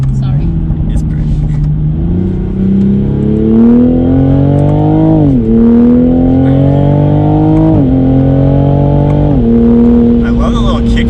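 Toyota A90 Supra accelerating hard on a race track, a loud, close engine drone climbing in pitch and dropping sharply at each of three gear shifts.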